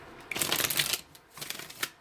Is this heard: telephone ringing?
no